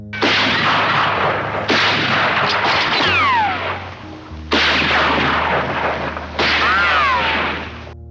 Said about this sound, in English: they have this one-on-one shootout where they're trying to kill each other